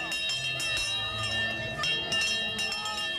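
Bells rung by children at hands-on exhibits on the Expo 86 site, several bright metallic chimes striking at irregular intervals over a busy background of crowd murmur and voices.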